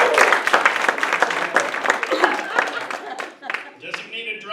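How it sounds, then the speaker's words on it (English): Crowd applause at a comedy fundraiser show, loud and dense at first, then thinning to scattered claps with voices rising as it fades. "Round of applause."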